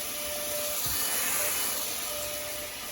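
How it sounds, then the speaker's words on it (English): A cheap no-name cordless stick vacuum runs with a steady loud whooshing hiss as it sucks up spilled rice, with faint rattles of grains under the constant motor noise. "It's really sucking up this rice really easily."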